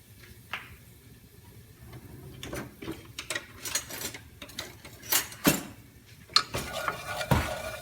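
A spoon stirs turmeric and red chili powder in a cooking pot, making faint scraping and clinking sounds that grow into sharper metal taps toward the end, with no talking.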